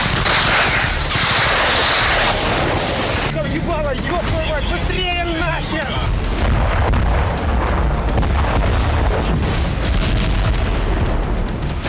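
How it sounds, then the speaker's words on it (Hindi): Loud, dense booming and crackling like distant blasts and gunfire at a Russian airbase under Ukrainian attack, continuous and chaotic, with a brief whistling, chirping stretch partway through. "यूक्रेनी फोर्स ने रूस के एयरबेस पर कई धमाके किए"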